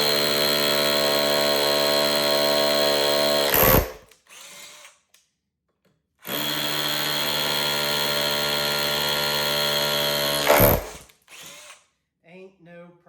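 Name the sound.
cordless SDS hammer drill drilling into brick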